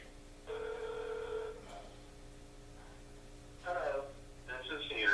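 A telephone rings while calling a Sears store at a mall, one long tone through the handset followed by a faint voice answering, all quiet and thin over a low hum.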